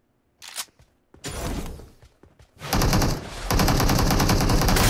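PUBG Mobile gunfire: a few scattered shots, then sustained rapid automatic bursts building to a loud, continuous rattling stream near the end.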